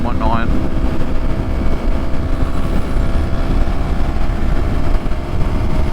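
A Yamaha MT-03 motorcycle rides along a highway, its engine drone and loud wind rush filling the sound steadily throughout, while a rider talks over it.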